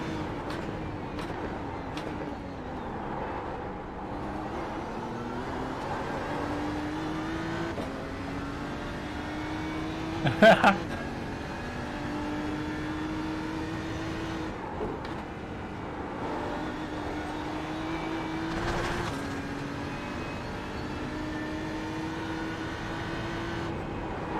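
Race cars in the iRacing sim at Summit Point drone steadily throughout, engine pitch climbing and dropping through gear changes, with a couple of brief sharp knocks near the middle.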